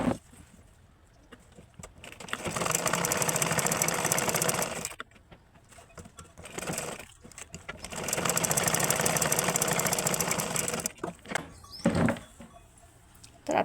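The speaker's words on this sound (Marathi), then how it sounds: "ही पट्टी अगोदर आपल्याला दोन्ही साईडने शिलाई मारून आपण अटॅच करून घेऊ." Sewing machine stitching a strap onto a cloth handbag, two long runs of steady, buzzing mechanical whir separated by pauses with small clunks, close and fairly loud with no speech.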